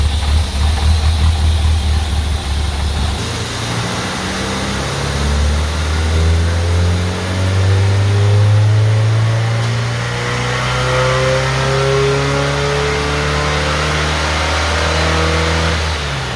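A 1969 VW Bus engine with a newly tuned carburetor runs on dyno rollers, a loud close drone that climbs steadily in pitch as it revs up and holds high.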